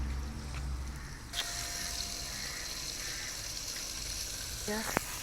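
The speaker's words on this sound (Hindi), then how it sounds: "हमने चिकन डाल दिया। इसको हम 5 से 7 मिनट तक भूनेंगे।" Desi chicken pieces fry in a pan, a continuous hissing sizzle that swells after a brief shift, with a couple of sharp clatters near the end.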